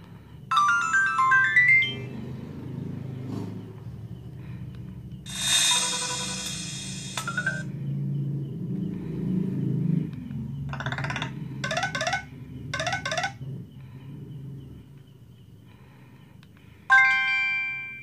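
Several built-in ringtones on a cheap budget phone play one after another: melodic chimes, a bright trilling burst and quick repeated tones, with short pauses and a low hum between them.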